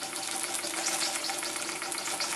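A Cyldon 13/2 model steam engine runs on its first steaming, giving a steady, dense hiss and chuffing rattle with a faint low hum beneath. The sound stays continuous and fairly loud, with no talking.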